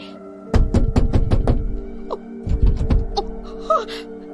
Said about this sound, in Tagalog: Patuloy niyang kinakalampag ang pintuan.